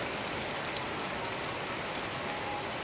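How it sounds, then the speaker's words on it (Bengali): Steady, heavy rain pouring down in a dense, continuous hiss, with no voices or other sounds standing out. "প্রচুর বৃষ্টি হচ্ছে জোরে জোরে বৃষ্টি হচ্ছে"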